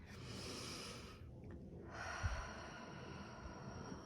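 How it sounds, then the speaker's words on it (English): Slow, deep breaths drawn in and let out during a relaxation exercise, soft and close, with a quiet pause in the middle before the next long exhale. "let's go ahead and take deep breaths"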